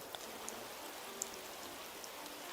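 Rain falling in the Animal Crossing: New Horizons video game, a soft steady patter with occasional light droplet ticks, no voices.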